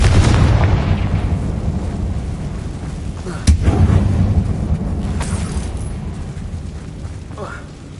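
Confringo blasting spell in the game Hogwarts Legacy, set in a closed mine resembling a tomb, a deep rumbling blast with one sharp crack partway through, then a slowly fading low roar, loud and close.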